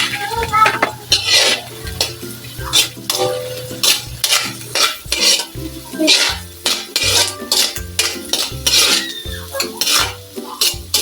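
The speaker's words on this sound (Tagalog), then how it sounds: "Ilalagay na natin guys yung bawang at sibuyas." Garlic and onion cook in oil in a metal pan for sarciado, with loud, rhythmic clanks and scrapes of a utensil stirring against the pan over a sizzle underneath.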